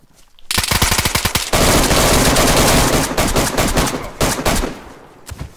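Automatic gunfire in a video game rattles out in rapid, loud bursts, with dense strings of shots broken by brief pauses, close and dominant throughout.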